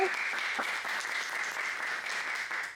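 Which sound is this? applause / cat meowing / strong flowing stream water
applause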